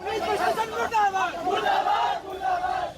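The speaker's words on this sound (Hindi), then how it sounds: "सैकड़ों की भीड़ ने थाने का घेराव कर लिया और नारेबाजी शुरू कर दी" Hundreds of people in a crowd shout slogans together outside a police station, loud, overlapping chanting voices rising and falling in repeated bursts.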